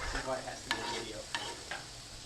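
Lasagna sauce being stirred in a pot, a short burst of close, soft sizzling and bubbling with a few sharp scrapes of the spoon against the pot.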